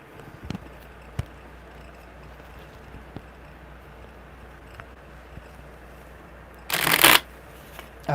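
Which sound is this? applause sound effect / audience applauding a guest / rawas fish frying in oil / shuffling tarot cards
shuffling tarot cards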